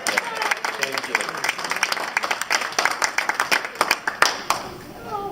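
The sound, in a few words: audience applause after magic trick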